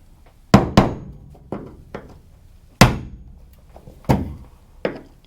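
A screwdriver jabs at a plastic tab on a Chevy Silverado fuel door, making a series of sharp, close thunks and taps at irregular intervals, a few louder knocks among fainter ones, with no talking.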